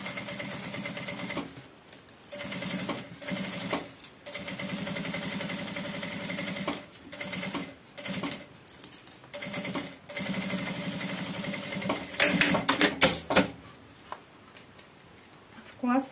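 Sewing machine stitching the outer pocket onto the side of a backpack, running in bursts of fast, steady mechanical whirring separated by short pauses, fairly close, with a voice speaking between runs.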